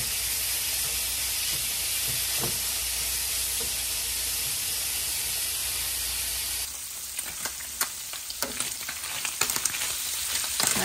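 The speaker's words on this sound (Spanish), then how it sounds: "El tocino suelta su propia grasita, entonces vamos a ponerlo aquí." Bacon sizzles loudly in a pan, releasing its own fat, as the base for charro beans; a dense, steady frying hiss continues throughout, with stirring clicks and scrapes in the second half.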